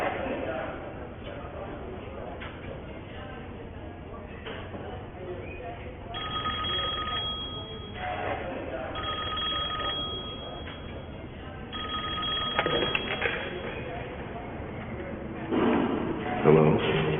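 A telephone rings repeatedly in a scene from the television series VR.5, its trilling bursts coming in regular intervals over a steady background hum, alone with no talking.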